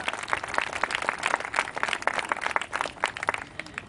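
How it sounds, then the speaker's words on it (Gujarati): An audience at the Gandhinagar Parikrama 2013 event claps in a loose, uneven burst of applause lasting a few seconds, with no talk over it. "પોતાના માટે તાળીઓ તો પાડી"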